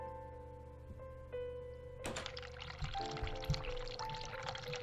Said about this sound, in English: turn hot water on